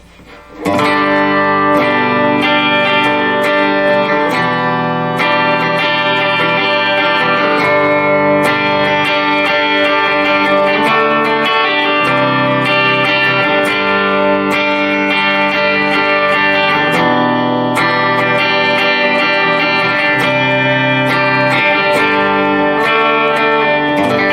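Sustained electric guitar chords ring through a Boss Katana MK2 amplifier, the tone grows grittier over time from clean to overdrive to distortion, loud and continuous without speech.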